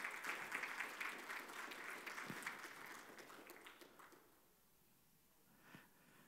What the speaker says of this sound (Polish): Ogromne brawa.